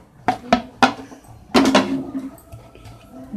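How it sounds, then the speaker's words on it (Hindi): A spoon or spatula knocking against a bowl while flour is mixed into chocolate cake batter, several hard clinks in an uneven rhythm with softer scraping between, close by. "अब इसमें जो बचा हुआ मैदा है वो भी मिक्स कर दूंगी"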